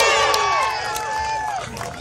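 A crowd at pig races during a county fair cheers and shouts loudly at first, the roar easing slightly but staying lively with whistles and voices throughout.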